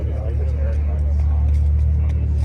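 A Subaru BRZ rolls slowly past at a car meet, its low engine rumble steady and fairly close under nearby talk.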